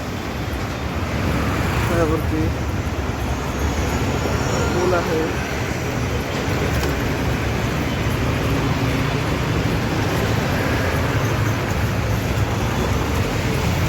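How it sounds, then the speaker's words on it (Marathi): Steady road traffic passes near Swargate bus stand: a continuous roar of vehicles with engine rumble and tyre noise, fairly close, while a person talks over it. "तर तुम्ही बघू शकता गाड्या वगैरे जात आहेत"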